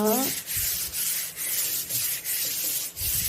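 Hand sanding of filler putty on an old dresser with sandpaper: steady back-and-forth rubbing strokes, about eight in a row, close and fairly loud with no talking.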